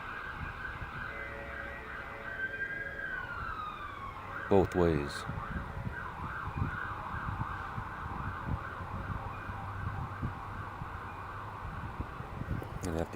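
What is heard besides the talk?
fire truck sirens crossing a bridge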